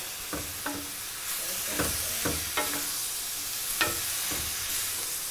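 Shrimp fajitas sizzle steadily in a pan, with a series of distinct spatula scrapes and taps as they are stirred at a moderate, close level.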